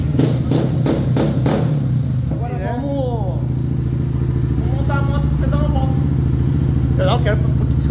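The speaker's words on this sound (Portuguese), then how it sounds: "A moto em lenta não carrega" A Honda CB 300F Twister motorcycle with a programmable Athlon ECU idles with a low, steady rumble close by while a person speaks intermittently over it.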